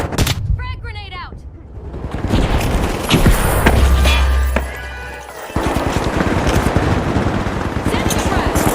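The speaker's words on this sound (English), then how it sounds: "Frag grenade out." Frag grenade blast and gunfire in the video game The Finals: a burst of shots and a deep boom with rumbling low end, loud and dense, followed by steady rapid automatic fire.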